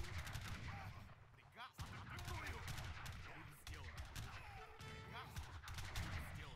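Dense musket and gun volleys crackle in rapid overlapping bursts during a multiplayer battle in the strategy game Age of Empires III, loud and sustained with no speech.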